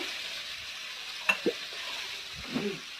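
Beets, potatoes and eggplant cooking in a pan, with a steady faint sizzle and a few soft stirring clinks and scrapes standing out now and then.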